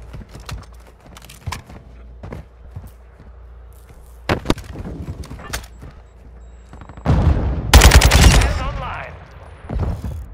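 Minibak SMG gunfire in Call of Duty MW2: scattered sharp single shots and short bursts at first, then a loud sustained close burst of rapid fire, then a few more isolated shots.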